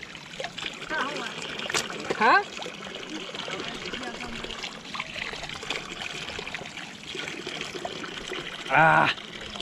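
Spring water trickles steadily in the background in a jungle while a person talks over it, with a couple of brief louder bursts.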